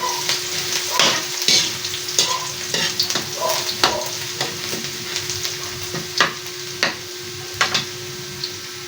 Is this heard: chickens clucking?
no